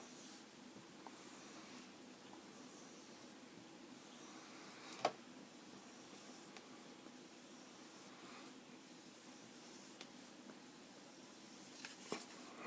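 Edge of an ESEE Izula survival knife stroked along a strop, soft repeated rubbing swipes in an even rhythm, faint and close with a quiet hiss between strokes.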